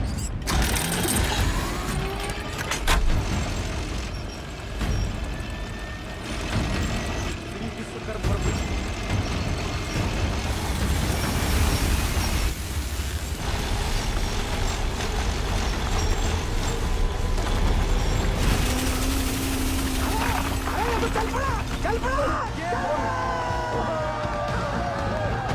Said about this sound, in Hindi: जिस तरह ये ब्लेड जमीन को काट रहा है, 150 फीट तो मक्खन की तरह हो जाएगा।